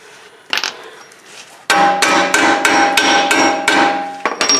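A hammer pounds a tie rod on a 2007-2011 Toyota Camry front suspension: a couple of faint early taps, then a fast run of about eight loud, ringing metallic blows, close and unaccompanied by talk.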